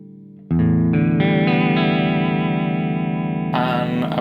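Electric guitar run through a pedalboard patch with vibrato, distortion and heavy reverb: a sustained, wavering chord rings out loud and steady after a quiet start, swelling brighter near the end.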